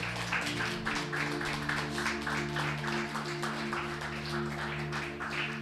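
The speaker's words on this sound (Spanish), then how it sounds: "Dele un fuerte aplauso al Señor" A church congregation claps together after a prayer in a Spanish-language worship service, a steady dense patter of many hands over a sustained low hum of music.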